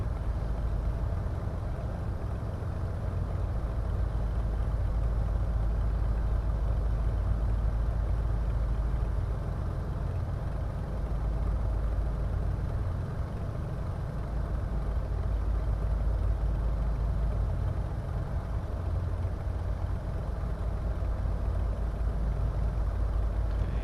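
A light aircraft engine idling on the ground before run-up in Microsoft Flight Simulator 2024, a steady, loud low-pitched drone holding constant throughout with no changes in pitch and no talk.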